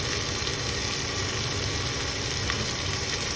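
Onion and tomato frying in a pan at home, a steady dense sizzle that fills the whole stretch at close range, with no talk over it.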